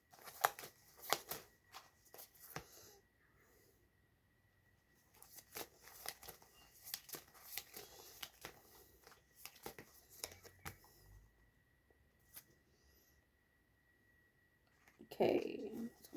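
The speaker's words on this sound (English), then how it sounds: "I'm gonna keep shuffling." Tarot cards are shuffled repeatedly in quick riffling bursts, close up, with brief pauses between rounds and a soft voice now and then.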